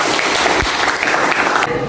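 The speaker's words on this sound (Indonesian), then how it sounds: "Tepuk tangan untuk Jasad." A classroom of students claps loudly for a classmate, a close, dense burst of many hands that carries almost the whole moment before cutting off abruptly near the end.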